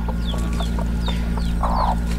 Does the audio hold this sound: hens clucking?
yes